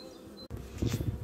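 Honeybees buzzing around an opened MER-style hive as brood frames are handled, a dense close hum that briefly cuts out and then swells louder.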